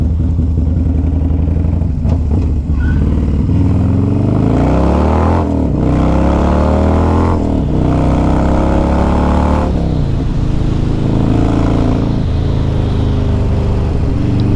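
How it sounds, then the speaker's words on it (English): Loud motorcycle engine revving hard and continuously, rising and falling in pitch through repeated throttle blips, close by and alone with no talking. "This is a great bike just for making noise, waking up the neighbors, scaring the animals, and just loving life."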